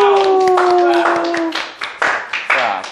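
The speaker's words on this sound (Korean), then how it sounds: "박수, 박수, 박수," High school students clap in a math classroom, a few sharp rhythmic hand claps coming in quick succession after a teacher's voice, close and fairly loud.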